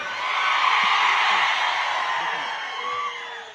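A large crowd at an outdoor political rally cheers and whoops, a dense sustained roar of many voices that swells early and then slowly fades.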